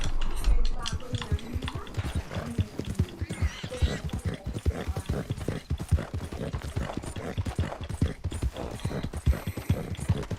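Horse hooves galloping in the video game Red Dead Redemption, a fast steady clip-clop rhythm of close, loud hoofbeats running the whole time, with people talking over it at moments.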